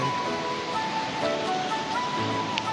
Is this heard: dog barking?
no